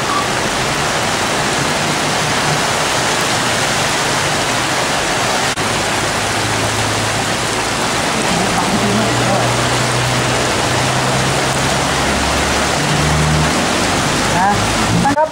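Floodwater pouring through flooded city streets in Ubon, a constant loud roaring flow with a vehicle engine droning low beneath, and someone speaking over the noise.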